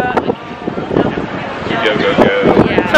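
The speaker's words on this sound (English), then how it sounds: "It's windy!" Gusty wind buffets the microphone in a steady, rumbling roar while a person talks over it throughout.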